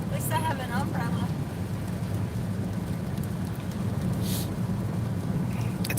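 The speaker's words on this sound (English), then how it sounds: "Rain, go away. At least I have an umbrella." Steady rain pours down outdoors in a loud, continuous wash with low rumbling, while a voice speaks briefly near the start over the downpour.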